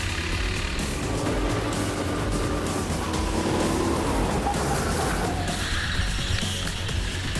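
A couple of go-karts drive around a track, their engines producing a continuous rumbling drone with a steady, moderately loud level and no speech.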